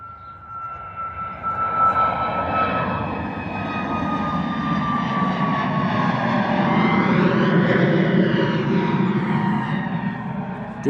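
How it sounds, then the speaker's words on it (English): A Ryanair Boeing 737 jet roars on departure at Bristol Airport, a loud sustained engine rumble with a rising whine that swells and slowly shifts pitch as it climbs away, alone with no talk. "gorgeous departure there from the Ryanair 737"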